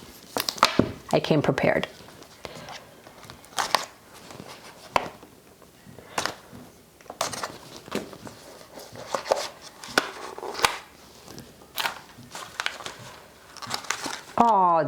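A small knife cuts open packaging on a Cloth and Paper stationery box, with repeated sharp slicing and crinkling plastic sounds close by, mixed with someone talking.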